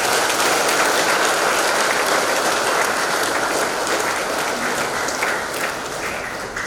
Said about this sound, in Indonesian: Marilah kita mengucapkan terima kasih dan memberikan penghargaan atas pelayanan yang telah mereka lakukan dengan memberikan aplaus untuk mereka.